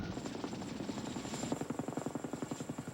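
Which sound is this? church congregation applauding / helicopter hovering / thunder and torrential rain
helicopter hovering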